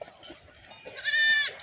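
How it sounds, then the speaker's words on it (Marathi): A goat in a village gives a single short bleat near the end, moderately loud against a faint outdoor background. "मी हातात पकडला तो बकरी आहे"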